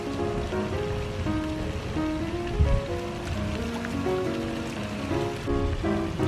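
Steady rain during Hurricane Dorian patters heavily on surfaces where ducks are bathing, a dense, even wash of drops close by with no voices.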